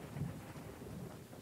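Thunder from a lightning strike in the Choo Choo Charles game rolls as a low, rumbling swell with a softer tail, over a steady bed of rain.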